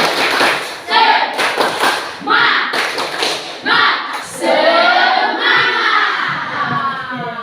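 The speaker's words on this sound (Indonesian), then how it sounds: "Ayo, tepuk semangat dulu ya." A classroom of pupils performs a rhythmic spirit clap during a maths lesson, loud patterned bursts of claps and thumps with shouted voices between them.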